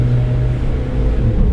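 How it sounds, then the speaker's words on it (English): A Suzuki Jimny engine drones loudly and steadily from inside the car, a low rumbling hum that swells slightly as it revs after a gearbox kick-down, with no talking. "Within the space of 10 meters it goes, kick down, revs, okay, back down"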